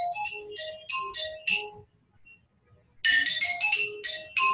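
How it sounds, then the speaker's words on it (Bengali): A phone ringtone from an incoming call plays a short bright melodic phrase, pauses about a second, then repeats, close and clear with no talking. "আমাকে একজন ফোন দিচ্ছে।"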